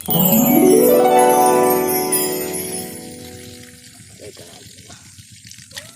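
Irrigation water rushes loudly into a rice paddy, a strong steady gush that slowly eases, while nearby splashes and bits of talk come through at the end.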